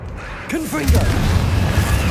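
A Confringo fire blast spell from Hogwarts Legacy explodes with a deep booming burst and rumbling tail, following a short spoken voice, loud and close.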